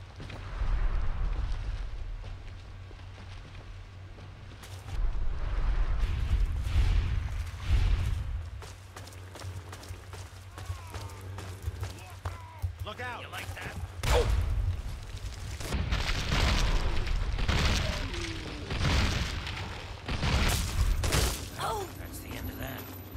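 Gunfire from a Fallout 3 firefight, with repeated bursts and booming shots rolling through the whole stretch at fairly loud level, broken by brief pauses and mixed with a low steady rumble; people talk over it now and then.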